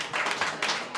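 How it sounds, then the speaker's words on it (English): A small group claps in a short, uneven round at a live show recorded in a bar, with a few distinct pulses of hand claps at moderate level. "Round of applause for Ronnie."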